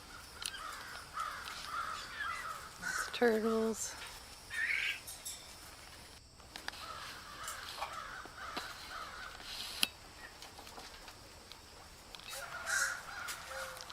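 Macaws and other caged birds call at a bird barn, with a few harsh squawks and caws rising over a busy, noisy background; a person speaks briefly.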